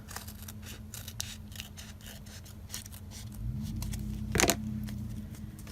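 Scissors snip fabric scraps for a textile journal page, a series of soft, close rhythmic cuts followed by a louder rustle of the material near the end.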